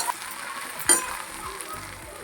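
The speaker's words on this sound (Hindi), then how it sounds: "आज मैं थोड़ा सा भिंडी को फ्राई करके बनाऊँगी," Okra (bhindi) frying in a pan, a soft steady sizzle with a brief crackling burst, close and alone.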